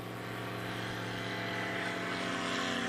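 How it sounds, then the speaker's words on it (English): Kit Fox light aircraft rolling for takeoff at a STOL competition in Pinedale, Wyoming, its propeller engine a steady droning hum with a low tonal buzz that swells slightly in loudness, continuous and close. "Doug Tolbert now on the roll in the Kit Fox."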